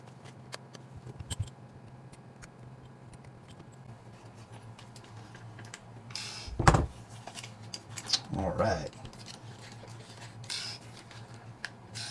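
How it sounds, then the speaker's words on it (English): A blade cuts away excess suction-sticker wrap on a radio transmitter, quiet scraping and slicing scratches in two short close bursts over a faint background hum. "So we're just going to take our blade and we'll just cut this away."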